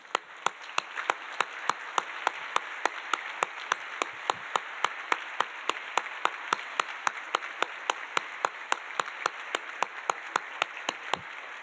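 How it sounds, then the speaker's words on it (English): Audience at a fall recognition dinner applauding honorees as they stand, a sustained, even patter of many hands in a large room, with a few sharper individual claps ringing out regularly throughout. "please now stand as you are able so we can recognize you with a round of applause"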